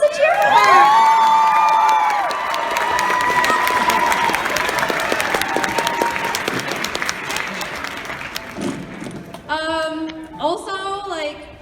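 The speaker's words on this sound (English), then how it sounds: "guys, you're supposed to cheer for her" Audience at a live awards show applauding, cheering and whooping for the producer, loud sustained clapping with shouts, fading toward the end as a few voices talk.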